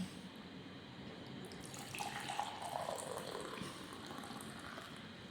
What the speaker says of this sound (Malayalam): നമുക്ക് ചായ ഒഴിക്കാം.